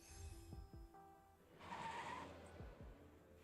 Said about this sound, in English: The truck shudders to a stop as several familiar faces hop off